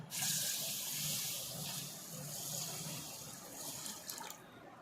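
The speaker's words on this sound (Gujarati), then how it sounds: "બાકીનું સાદું પાણી નાખું છું" Plain water runs steadily from a tap into a container for mango pickle, a continuous rushing splash that eases slightly toward the end.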